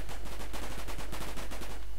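Rapid gunfire from a World War One era strategy game rattles continuously in dense overlapping bursts, loud and close with no pauses.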